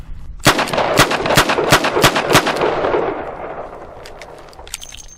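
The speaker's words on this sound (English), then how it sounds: "So we're going to load up 6 rounds and check the timing on this Model 206." Six sharp, loud gunshots from a Rock Island Model 206 .38 Special revolver fired double action at an outdoor range, in quick, fairly even succession, each crack trailing a reverberant tail that fades out afterward.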